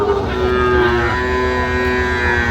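A Sahiwal bull at a cattle market in Madaripur gives one long, loud, sustained moo close up, over a steady crowd murmur.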